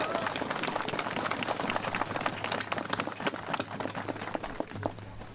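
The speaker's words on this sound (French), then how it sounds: "bonne main d'applaudissements" Lively applause from a crowd at a veterans' commemoration ceremony, with dense, steady clapping that carries on throughout.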